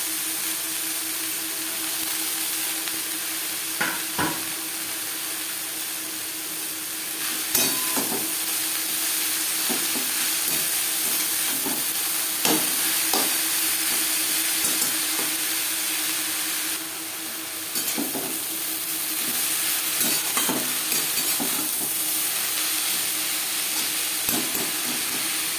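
Chopped amaranth greens stirred with onion in a hot pan, a constant hissing sizzle with scattered scraping strokes of the spatula at an uneven pace, close and steady, no voices.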